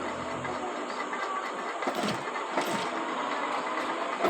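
A sewing machine runs steadily, putting a row of stitching into fabric while a dress collar is attached, with a continuous mechanical whir and a few louder bursts partway through.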